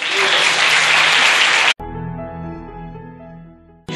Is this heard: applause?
yes